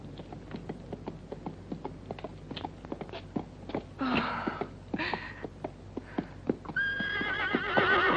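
A horse whinnies loudly several times over a steady clip-clop of hooves in a 1965 Western film, close and clear, with no talking.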